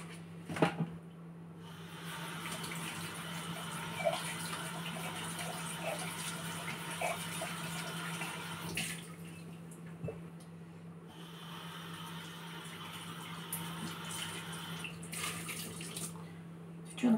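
Steady running water from a tap with dishes being handled, occasional clinks and knocks over a constant hum, close by, no talking.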